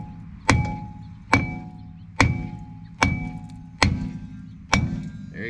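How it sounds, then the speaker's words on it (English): Six sharp, evenly spaced hammer taps ring out against the face of a Kia Rio brake drum, each a close metallic clank with a short ringing tail, and no voices in between. "Go ahead and try and get it with a hammer a little bit first. Maybe tap the face of it."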